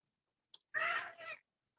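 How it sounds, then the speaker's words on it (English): A house cat lets out a single close meow, preceded by a faint brief chirp, in an otherwise quiet room. "that's my cat"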